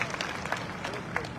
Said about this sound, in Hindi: ताली बजाओ मैडम के लिए भाई